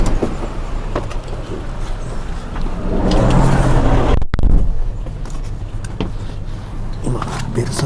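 Inside a Bell Travel Service van riding through Pattaya, a steady low road rumble and engine drone build through the middle of the ride, with a single sharp thud near the midpoint and muffled voices in the background.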